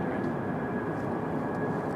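A Southwest Boeing 737-800, painted in Illinois One livery, arrives at Raleigh-Durham International on a flight from Fort Lauderdale, its engines a broad steady roar with a thin high whine, heard at a distance.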